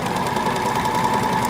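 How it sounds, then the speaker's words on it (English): A sewing machine runs steadily in a room set up for a fashion show of couture garments made by older residents, giving a continuous even whir with a faint tone throughout, no talking. "some by sewing machine"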